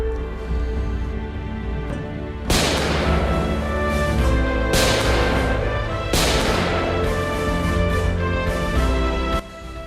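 Artillery fire from howitzers, mortars and cannons crews: three heavy, loud blasts land a couple of seconds apart, each a sharp broadband crack that rolls out over a continuous tonal, music-like bed.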